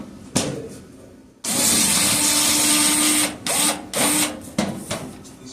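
A power driver whirs steadily for about two seconds, then gives several shorter bursts, drawing the final screw from the cover of a dryer that overheats and keeps blowing fuses; the tool is loud and close.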